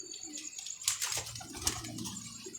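Pigeons coo softly nearby, low throaty calls repeating over a background of faint rustling and a brief flutter.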